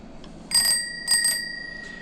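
A small handlebar-mounted bicycle bell rings twice, two bright metallic dings about half a second apart, each with a ringing tail over a quiet background.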